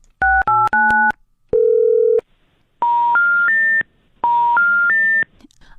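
A telephone number is dialed on touch-tone keys, giving a quick run of crisp DTMF beeps and a longer tone, followed twice by a rising three-note electronic signal, loud and clean with no talking.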